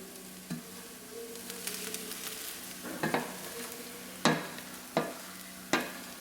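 Chopped taro leaves are stirred into sautéed grated coconut in a pan, a soft sizzle underneath with several distinct scraping stirs of the spatula, the last few sharp and evenly spaced.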